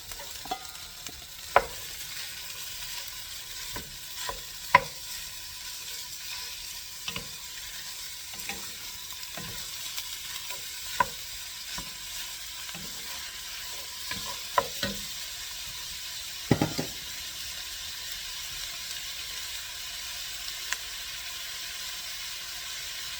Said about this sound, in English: we're going to cook this sausage now